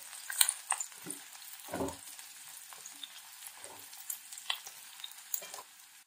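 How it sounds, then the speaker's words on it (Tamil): Garlic, onion and dried red chilies frying in a pan, a soft, fairly quiet sizzle with intermittent spatula scrapes and clicks scattered across the stretch. "நம்ம சேர்த்த பூண்டு வெங்காயம் வத்தல் எல்லாமே நல்லா பாதி வதங்கிடுச்சு."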